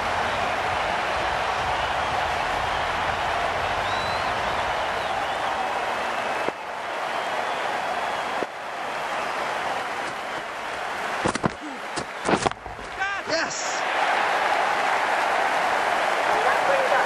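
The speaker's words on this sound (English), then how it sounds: "The crowd are loving this." A cricket crowd at a Sydney Thunder versus Brisbane Heat match cheers and applauds in a steady, loud roar, with voices talking over it.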